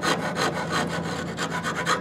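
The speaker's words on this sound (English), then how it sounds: "we want to get as much of that stuff out with the rasp as we can" Wood rasp shaping a guitar neck near the headstock, loud close rhythmic rasping strokes repeated rapidly and evenly throughout.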